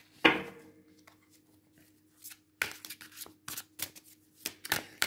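Light Seer Tarot cards being shuffled and drawn: a sharp riffle at the start, then scattered soft slaps and flicks of cards close by, with brief pauses between.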